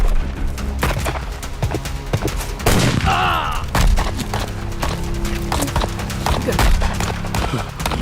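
Gunfire from a shootout in a Tamil-dubbed Hollywood cowboy western, with sharp shots scattered among hoofbeats, horse noise and shouting voices in a busy, dense action mix.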